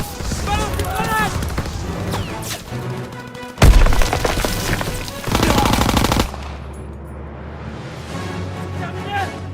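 Gunfire in a WWII video game: bursts of machine-gun fire and single shots, one loud boom, and voices shouting under the combat before the shooting fades to quieter background.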